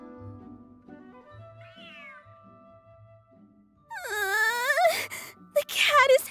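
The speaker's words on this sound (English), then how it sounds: "The cat is hissing at me, Miss Rosaria!" A cat in the Genshin Impact video game lets out a loud, drawn-out wailing yowl with a few sharp bursts after a quiet stretch of soft background game tones.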